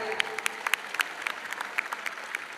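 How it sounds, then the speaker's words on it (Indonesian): Light scattered clapping from an audience at a political party inauguration event in Kalimantan, distinct individual claps sounding somewhat distant and fairly faint against a low background murmur. "Pak Hatta Rajasa, tepuk tangan yang meriah"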